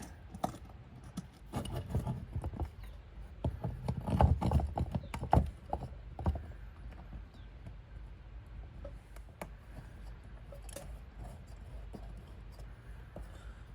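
Screws on a dusk-to-dawn motion sensor porch light being loosened, heard as irregular metallic clicks, taps and rattles that cluster early and then thin into sparse ticks over a quiet room.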